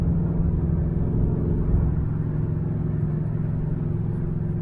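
A Ford Maverick Grabber car rumbles low and steady while driving, a constant muffled engine and road drone heard from inside, moderate in level and alone.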